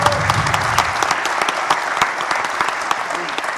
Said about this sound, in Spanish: para las que también les pido un aplauso